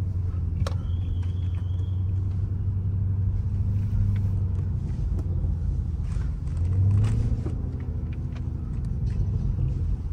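Muffled engine rumble and low road noise from inside a 2023 Lamborghini Urus Performante SUV with standard Akrapovic exhaust as it drives, steady with a brief swell of acceleration partway through.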